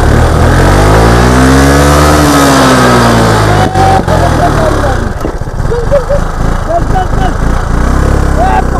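A car engine, started with a key, runs and revs in rising and falling sweeps, loud and close, while people talk over it.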